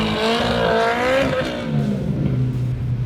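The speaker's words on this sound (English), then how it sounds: "giving you that classic thermal exhaust note in a bite-sized package" A Polaris Slingshot (2020 or newer) with a Thermal R&D front-exit exhaust revs up and then eases off, its exhaust note rising in pitch before dropping, loud and close with no talking.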